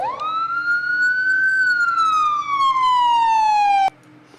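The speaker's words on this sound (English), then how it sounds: "Let's hit the siren." A single loud police siren wail in a police simulation video game rises and then slowly falls in pitch, steady and close, cutting off abruptly near the end.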